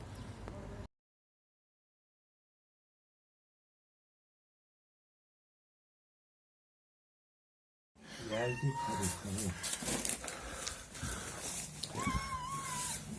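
After a long silence, a cat rescued from earthquake rubble meows several times, close by, mixed with people talking nearby.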